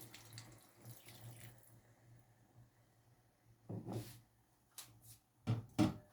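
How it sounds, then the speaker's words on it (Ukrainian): Water is poured into a pot of chicken drumsticks and potatoes in a quiet kitchen, arriving as three short splashing bursts, the last two loudest, against a low background hum. "зараз ми додаємо водички"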